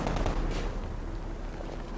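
Gunfire in Batman: Arkham Knight: a quick cluster of sharp shots rings out at the start, then fades into a dull, low rumble of game ambience.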